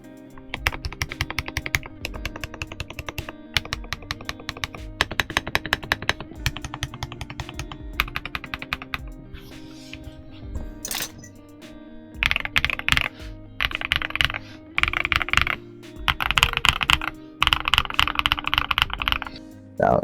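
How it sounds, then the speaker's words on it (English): Typing clacks on a stock Redragon K707 Star Blade Pro mechanical keyboard, close and crisp, in dense bursts of rapid keystrokes separated by short pauses. "It sounds amazing for a stock Redragon keyboard."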